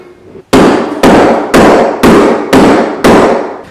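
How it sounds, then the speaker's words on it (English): A hammer strikes a home-project workpiece six times in a steady rhythm, each blow a loud, sharp, close impact that rings briefly before the next, with no talking. "When in doubt, just hit it with a hammer."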